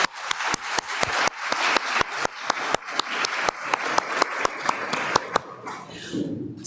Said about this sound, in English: So one big round of applause for our panelists.